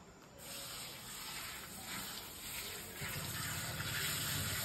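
Running water rinses chopped onion for pav bhaji in a home kitchen. A steady gush pours over the pieces, growing a little fuller toward the end, with a faint hiss throughout.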